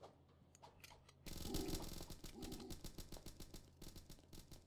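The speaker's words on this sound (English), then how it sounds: "How the hell does he have a machine gun?" Rapid machine gun fire in the video game Starbound, dense repeated bursts of shots with a steady staccato rhythm after a quieter opening, loud and close.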